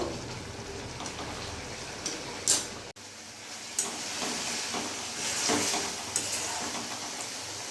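Egg curry bubbling and simmering in a pan, a soft steady hiss with occasional small pops and clinks, close and without talk.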